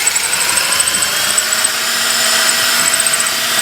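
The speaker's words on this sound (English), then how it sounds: "I'm having to drill it out." A power drill grinds steadily through a badly corroded bolt on a Jaguar X-Type front strut, a continuous high whine with a faint lower motor hum, close and loud throughout.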